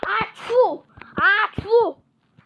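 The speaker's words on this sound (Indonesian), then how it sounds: "bersin parah, temen" A cartoon character sneezes hard twice in a row, each with a voiced buildup and a sharp burst, followed by a short silence.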